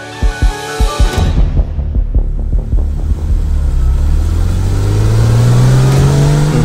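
Kia Stinger engine revving hard while driving, loud and close, with a rhythmic series of throttle blips in the opening seconds that builds into a sustained, rising engine roar.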